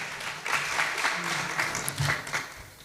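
Audience applause at a Kenyan environmental and public health officers summit, steady, fairly soft clapping from a seated crowd in a hall, lasting throughout.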